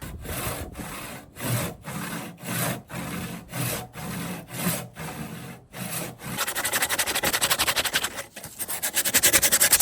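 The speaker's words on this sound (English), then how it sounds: "getting rid of some of this burrs, the loose fibers from that really coarse rasp" A very coarse rasp worked along a wooden axe handle to remove burrs and loose fibres, with rhythmic rough scraping strokes about every half second that turn into faster, denser rubbing toward the end.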